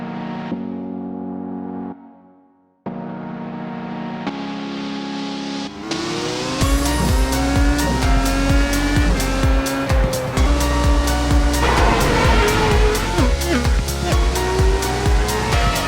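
Race cars in the iRacing sim at Phillip Island: after a few brief tones, loud engines roar and rev together, with rising pitch sweeps and tire squeal filling the rest.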